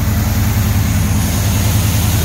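Small block V8 with headers in a 1953 Chevrolet 3100 panel truck idles steadily, a loud, close, even low rumble that holds without change throughout.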